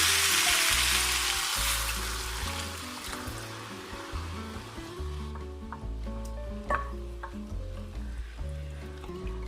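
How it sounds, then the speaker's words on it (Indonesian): Water or broth poured into a hot pan of sizzling carrots and potatoes bursts into a loud hiss at first, then settles into a softer, bubbling simmer with occasional stirring. "tambahkan air atau kaldu."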